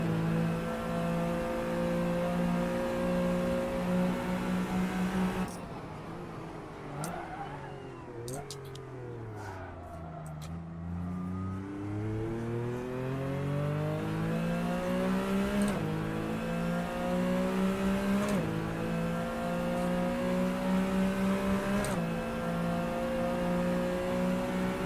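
Race car engine in the Assetto Corsa racing game revving hard through the gears, a loud, continuous whine that drops sharply on a downshift and then climbs steadily again while a voice talks over it.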